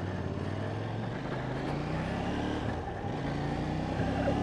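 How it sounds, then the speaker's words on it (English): A 2018 KTM 790 Duke, a 799 cc twin with a quick shifter, drones steadily while being ridden, its engine note mixed with wind rush and broad road noise at a constant, moderate level throughout. "this is the KTM Duke 790, also known as the Scalpel apparently"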